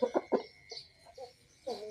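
A fighting rooster four to five years old gives a few quick, close clucks, then softer scattered clucks and a final louder call.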